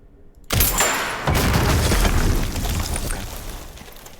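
In a video game, a sudden loud gunshot-like boom shatters a crate, followed by a long rumbling, crackling tail of debris that slowly fades.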